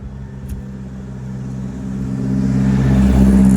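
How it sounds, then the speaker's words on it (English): A truck drives past on a road, a steady low engine rumble and whir that builds in loudness as it approaches over a few seconds, with no talking. "just wait for this truck to pass"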